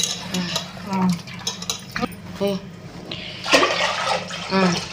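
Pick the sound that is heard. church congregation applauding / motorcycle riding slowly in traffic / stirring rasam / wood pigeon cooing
stirring rasam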